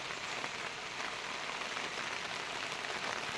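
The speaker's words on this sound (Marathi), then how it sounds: "पाऊस पण आता लागोक लागलेलो आहे बघा" Steady, even hiss of rain falling, constant and fairly faint throughout with no voices.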